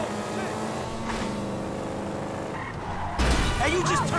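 A car drives in GTA V with the LeFix Simple Fuel mod, giving a steady engine drone that rises sharply near the end with skidding tires, while someone talks over it.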